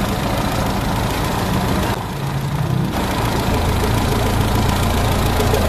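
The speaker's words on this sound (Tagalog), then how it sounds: "napakagandang kondisyon ng makina ng 4K na to" A jeep's 4K diesel engine idles steadily nearby, a continuous low rumble with a knocking chug, with no pauses.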